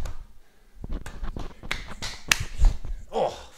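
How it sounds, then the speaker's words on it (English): Hand claps repeated in quick succession during a home tennis exercise, a run of sharp close transients of varying loudness, with no talking. "See how many claps you can do."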